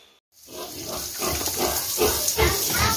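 Pigs on a small backyard pig farm grunt and squeal close by in a steady, busy chorus, with faint water running in the background.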